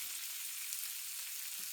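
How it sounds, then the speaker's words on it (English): Duck breast sears meat side down in a frying pan, giving a steady, close, even sizzle with a faint crackle and no voices. "our duck has been sizzling away in the pan for about a minute, meat side down"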